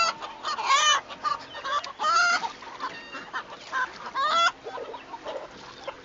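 Farmyard chickens cluck and squawk in several short, rising bursts at moderate distance, with quieter gaps of ambient noise between the calls and no voices present.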